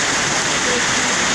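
Heavy rain pouring down in Ntinda, Kampala, a loud, dense, continuous hiss of water falling on surfaces with no break.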